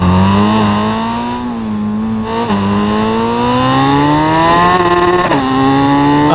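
A 2024 Suzuki Hayabusa motorcycle pulls hard on a highway, its loud engine whine climbing steadily in pitch with brief dips at gear changes, mixed with rushing wind and no talking.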